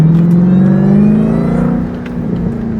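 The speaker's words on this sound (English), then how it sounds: "Y'all hear that pop? With the pops and bangs, this exhaust" A Dodge Durango Hellcat's engine drones loudly and rises in pitch as it revs, with a few faint exhaust crackles and pops near the end.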